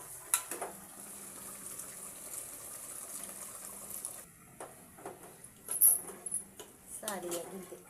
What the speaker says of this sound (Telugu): కొన్ని నీళ్ళు పోస్తా.